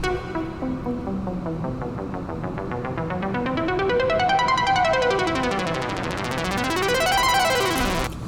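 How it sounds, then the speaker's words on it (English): Rapid plucky synth notes ripple in an arpeggio that keeps speeding up and shifting pitch, dense and buzzy, running on without pause. "just this arpeggio sound, kind of plucky, speeding up, slowing down"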